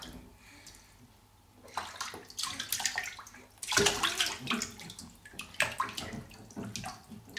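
A three-month-old baby splashes in bath water, with close, uneven bursts of sloshing and slapping that rise and fall over several seconds.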